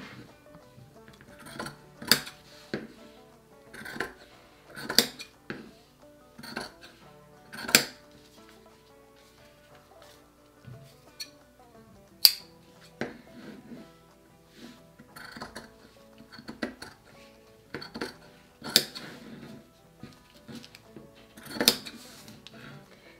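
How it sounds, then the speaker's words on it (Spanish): Fabric being cut along the grain with scissors for a tiered ruffle dress, heard as a series of crisp, close snips at irregular intervals with short pauses between, no voices over them. "Esto lo estamos cortando al hilo de la tela"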